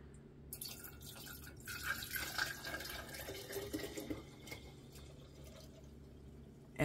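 Homemade apple pie moonshine poured from a 2-cup measuring cup into jars, a soft liquid trickling and dripping that runs steadily with faint splashes and clinks, fairly quiet throughout.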